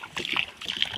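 Water pours out of a bottle onto ground near a paddy field, splashing and splattering in two short gushes close at hand.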